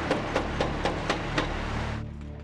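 Heavy hammering breaks up the concrete of Condit Dam, about six regular impacts over a steady loud machinery rumble at a demolition site, with the blows stopping near the end while the rumble continues.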